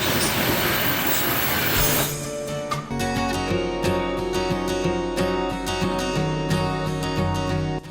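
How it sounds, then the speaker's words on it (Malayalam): A train on the Flåm railway in Norway grinds iron wheels against iron rails, a loud close squealing and rumbling that starts with rushing noise and settles into steady metallic rolling with rhythmic clatter. "ഇരുമ്പ് ഇരുമ്പിലുരയുന്ന ശബ്ദം ഞാനൊന്ന് കാതോർത്തു"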